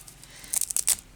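Fabric being torn or cut for crazy patchwork crafting, heard as a few short, close rasping rips in quick succession near the end, with no talking.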